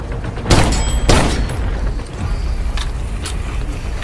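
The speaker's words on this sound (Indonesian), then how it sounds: "sang penembak pun panik lalu mulai menembaki gudang" Gunfire rings out at a warehouse in a film scene: two loud, booming shots close together, then fainter reports fading into a rumbling background.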